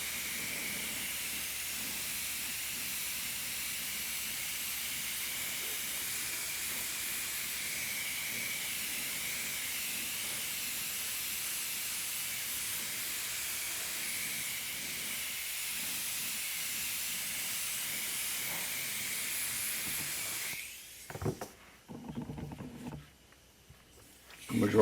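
Black lacquer paint hisses steadily from a sprayer onto a quarter-scale custom figure for about twenty seconds, a loud continuous spray that then cuts off into a few brief bursts.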